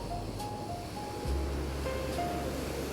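Ocean waves wash in a soft, continuous surging hiss with a swell midway through, under faint sustained musical tones.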